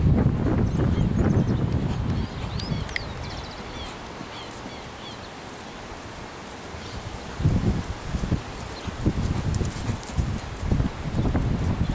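A large, very calm bay horse walking outdoors, its hooves thudding in an irregular clip-clop at close range among rustling and wind noise, with a quieter stretch in the middle.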